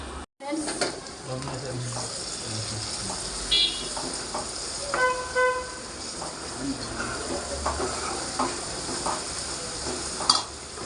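Onions, some chopped and some ground to a paste, fry in a pan of oil with a steady, close hiss and sizzle, interrupted by occasional stirring clinks and scrapes throughout.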